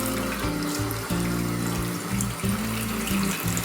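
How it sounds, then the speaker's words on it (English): Cold tap water running into a kitchen sink, a steady rushing pour with a low, shifting hum underneath, close and continuous throughout. "So I start off by filling up the sink."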